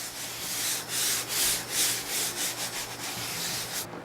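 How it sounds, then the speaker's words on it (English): Fine 100-grit sandpaper rubs back and forth on parchment in steady, rhythmic strokes, a soft close-up scratching hiss with no voices. "Using the 100 grit sandpaper, things are much smoother."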